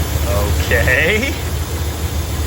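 The 440 V8 in a 1978 Dodge D200 crew cab long bed idles with its idle screws turned all the way in, giving a steady low rumble under faint background noise.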